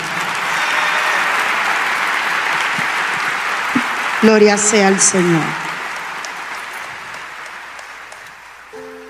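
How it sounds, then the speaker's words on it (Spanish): Church congregation clapping and cheering, a steady broad wash of applause across the whole stretch, with a voice briefly calling out over it partway through. "dele su aplauso más fuerte"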